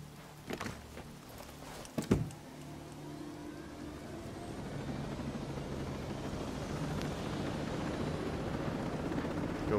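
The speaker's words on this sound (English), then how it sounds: "A helicopter?" Faint helicopter rotor noise in Tom Clancy's Ghost Recon Breakpoint builds steadily into a broad, whooshing drone, with a couple of dull thumps early on.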